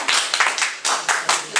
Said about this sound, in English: how about clapping your hand while I am drinking?